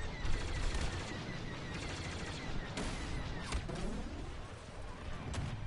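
Gunfire crackles through a Battlefront 2 match in dense, overlapping bursts with a few sharper cracks standing out, suited to a default sniper rifle among other weapons, all at a steady loud level.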